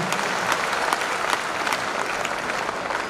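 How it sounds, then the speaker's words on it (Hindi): Steady audience applause at a motivational goal-setting seminar, dense continuous clapping from many hands filling the whole stretch at even loudness, with no talking over it. "ताली बजा लीजिए, ये फाइनल है सर।"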